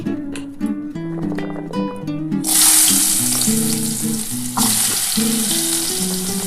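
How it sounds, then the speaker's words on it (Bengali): Potatoes dropped into hot mustard oil in a wok burst into a loud, close, sustained sizzle that surges again midway, with background music playing throughout. "বন্ধুরা দেখো, আমার কিন্তু তেলটা গরম হয়ে গেছে, আমি আলুটা দিয়ে দিচ্ছি।"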